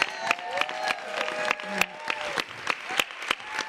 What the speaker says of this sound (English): Another round of applause for Elena,